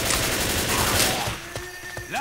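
A dense barrage of gunfire in the zombie shooter Left 4 Dead rattles in rapid overlapping bursts, loud and close. It thins into a few scattered shots near the end.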